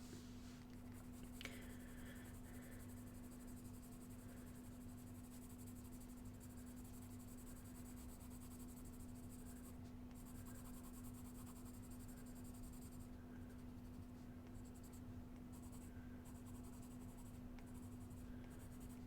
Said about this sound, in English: You'll notice that I've still got my pencil on the side on an angle, and to not break that lead, trying to keep that nice and light.